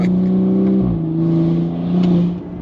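A BMW G30 540i's B58 engine with free-flow downpipes and Valvetronic exhaust hums at a steady pitch, then drops sharply with a low exhaust burble and climbs again, as if downshifting and revving back up.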